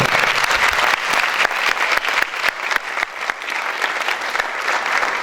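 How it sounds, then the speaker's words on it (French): Lecture audience applauding at the close of a talk on Turing and patterns in nature, a dense, steady roomful of clapping that holds evenly throughout with a few louder individual claps. "Je vous demande s'il vous plaît d'applaudir la dernière fois"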